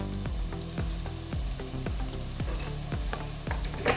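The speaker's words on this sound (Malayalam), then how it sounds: "ഇപ്പോൾ സവാളയൊക്കെ നന്നായിട്ട് വഴറ്റി വന്നിട്ടുണ്ട്." Sliced onions sizzle and fry in a hot pan as coriander, chilli and other spice powders are added, with steady close sizzling under repeated sharp scraping or stirring strokes, no voices.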